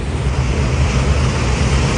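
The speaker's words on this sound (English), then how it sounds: "The tsunami rushes in, destroying the bungalow." Tsunami water rushes in and tears apart a bungalow, a loud, steady, broadband roar of surging water that holds without a break.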